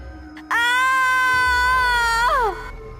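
A woman's single long, high-pitched scream in a horror story lasts about two seconds, loud and close, then bends downward as it ends.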